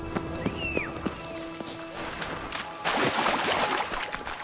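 A horse gallops in The Witcher 3: Wild Hunt, Blood and Wine, its hooves clip-clopping in a quick rhythm. A short neigh sounds near the start, and the steady hoofbeats continue at moderate loudness through the clip.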